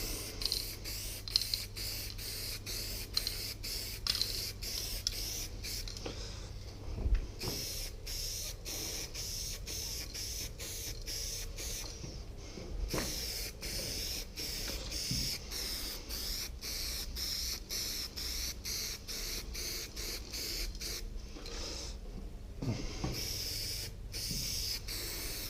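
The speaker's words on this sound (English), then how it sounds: "spray paint's having a tough time." A spray paint can hisses out graffiti paint over emulsion on a cool day, in a long series of short, rhythmic bursts with brief pauses between them, close by and fairly quiet.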